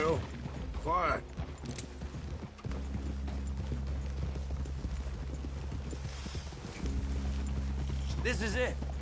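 Horses' hooves clip-clop in Red Dead Redemption 2, with a steady rhythmic plodding over a low hum and brief voices in between.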